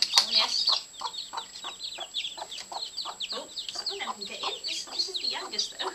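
A hen clucking with her day-old chicks during a sandbath, steady close chatter of high peeps and clucks repeating throughout.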